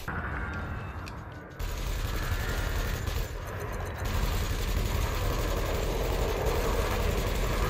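Multi-cannon fire in the space combat game Elite Dangerous, a dense continuous rattling barrage that runs loud and unbroken with a couple of brief dips, over a steady engine-like drone.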